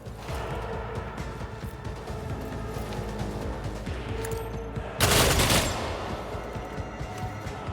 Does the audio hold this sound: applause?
no